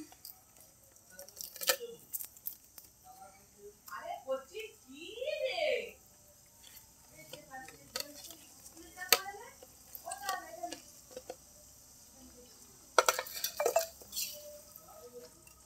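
Pieces of fish are added to a simmering pot of curry, with clinks and scrapes of a spoon against the pot and soft wet squishes. Someone talks over the sounds throughout.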